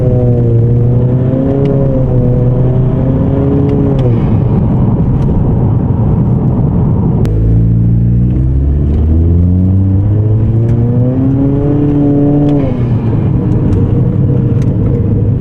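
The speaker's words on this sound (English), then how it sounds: "I would say you definitely hear burbles." Interior sound of a Honda Accord fitted with an Axions 2-in-1 downpipe: a loud, steady engine drone with rising and falling revs, plus a deep rumble and crackly exhaust burbles that keep going without a break.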